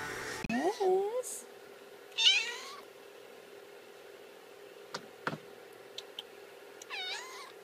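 A three-week-old kitten gives a few thin, high meows, close and clear, spaced by quiet gaps, with a couple of soft clicks and taps between them.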